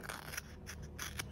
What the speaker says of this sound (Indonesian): Lalu untuk bagian segitiga yang ada di ujung ini kita gunting